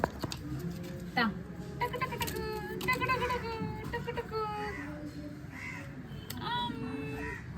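Crows caw repeatedly nearby while people talk over them.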